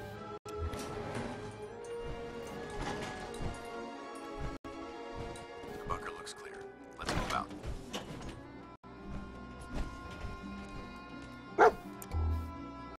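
A dog in the video game Fallout 4 barks and yips in short, scattered bursts at moderate distance amid game ambience and music.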